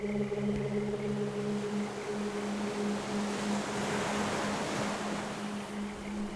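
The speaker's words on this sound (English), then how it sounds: "the water rolled in with a deeper tone here" Steady wash of surf rolling into a cove, a continuous low rumble with a soft hiss on top and a faint tonal hum underneath, no voices.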